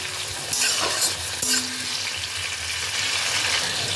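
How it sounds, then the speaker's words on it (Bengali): Chopped tomato sautéing in hot oil for a tangra fish curry with potato and eggplant, a dense, even sizzle heard up close, with a couple of soft stirring scrapes and no talking. "টমেটো কুচিটাকে দিয়ে এটাকেও তেলের মধ্যে খানিক্ষণ সাঁতলে নিতে হবে"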